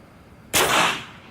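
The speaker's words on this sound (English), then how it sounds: "Now for the unsuppressed air rifle." A single unsuppressed air rifle shot: a sharp, loud crack with a quickly decaying noisy tail, standing alone after a moment of quiet.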